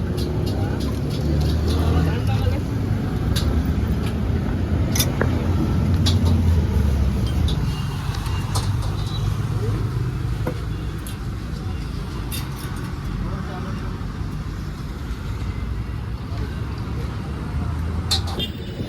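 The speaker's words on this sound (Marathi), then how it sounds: "हे बघा किती ट्रॅफिक." Busy road traffic on the Vikhroli to Dombivli route: a steady, dense rumble of cars and buses passing nearby, holding at an even, fairly loud level for the whole stretch, with faint voices mixed in.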